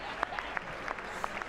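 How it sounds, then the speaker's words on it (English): Audience clapping continues at low level, a dense patter of claps with a few sharper individual hits standing out, faint and distant. "How are they clapping for so long?"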